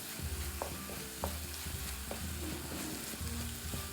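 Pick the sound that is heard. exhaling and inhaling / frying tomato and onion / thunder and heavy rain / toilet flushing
frying tomato and onion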